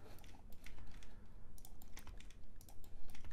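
Rapid, close clicking of computer keyboard keys in irregular bursts, steady and fairly quiet, with no talking.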